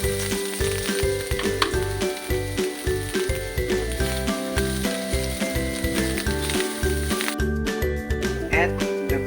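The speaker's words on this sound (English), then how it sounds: "Saute the garlic and onions." Garlic and onions sauté in a pan, a steady close sizzle running the whole time beneath loud background music with a constant tonal bed.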